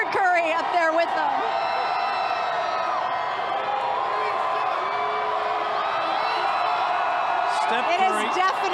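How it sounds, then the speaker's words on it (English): A huge crowd roars and whoops at the Golden State Warriors' 2017 championship parade in Oakland, a steady, deafening wall of cheering under someone talking over it. "The crowd is deafening."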